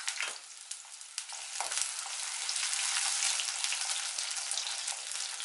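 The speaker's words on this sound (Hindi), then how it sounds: "थोड़ा देर इसे फ्राई होने देते हैं।" Ginger and garlic fry in hot oil for a gooseberry pickle, giving a steady, close crackling sizzle that swells slightly after a brief dip near the start and continues without talk.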